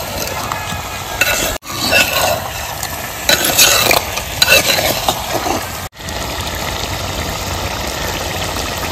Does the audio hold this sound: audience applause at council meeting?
no